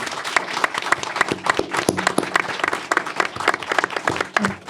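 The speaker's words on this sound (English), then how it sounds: "So let's please give them a round of applause." Audience applause for visual artists at a community panel forum, a busy patter of individual claps with no speech, steady across the whole stretch and fairly close.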